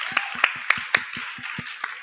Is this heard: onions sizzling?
no